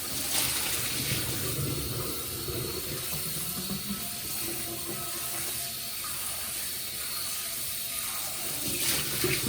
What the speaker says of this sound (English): swirl it around like this and then pour it out